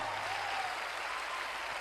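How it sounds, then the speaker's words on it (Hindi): An audience at a motivational talk gives a dense, faint, steady wash of applause with no individual claps standing out. "जोरदार तालियां बजाइए दोस्तों।"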